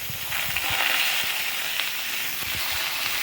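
Potatoes drop into hot oil in a wok and sizzle with a soft, steady hiss, broken by faint scraping clicks.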